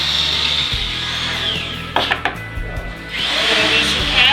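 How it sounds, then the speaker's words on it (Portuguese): A power drill bores holes of different sizes for fitting electrical equipment on a sailboat, whirring steadily at close range with a short break of bumps and handling noise midway before the drill resumes. "Tivemos que fazer furos de tamanhos diferentes, pois cada equipamento tinha uma dimensão específica"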